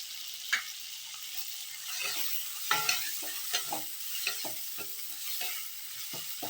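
Ripe red tomatoes sauté with salt in a hot pan, giving a steady close sizzle broken by several sharp spatula scrapes and stirs; no voices.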